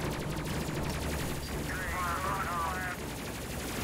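Ship guns firing in a Space Crew space combat game, a dense, continuous rapid-fire barrage under constant loud game noise, with a brief sweeping tone partway through.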